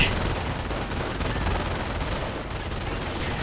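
Dense, continuous gunfire roars from a World War II real-time strategy game: rapid machine-gun bursts mixed with artillery blasts, loud and unbroken throughout.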